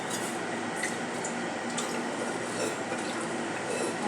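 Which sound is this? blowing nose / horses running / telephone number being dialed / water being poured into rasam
water being poured into rasam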